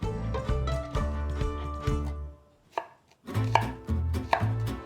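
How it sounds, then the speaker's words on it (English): A knife roughly chops celery and onions into big chunks on a board, a close run of quick, steady thuds with a short pause in the middle before the chopping starts again, no speech. "roughly chop some celery and onions"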